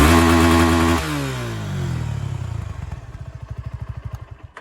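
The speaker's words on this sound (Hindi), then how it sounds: "अब बात कर लेते हैं इसके एग्जॉस्ट नोट के बारे में कि गाड़ी सुनती कैसी है" Suzuki V-Strom SX 250 motorcycle with a dual-barrel exhaust, its engine idling loud and close with an even low throb, then revving up and dropping back to a rapid rhythmic thumping idle.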